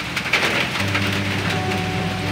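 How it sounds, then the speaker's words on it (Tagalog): Heavy rain pours down steadily, a dense close hiss of drops drumming on surfaces with a low rumble underneath, no voices. "Inabot ako ng ulan ay oh. Lakas man ng ulan."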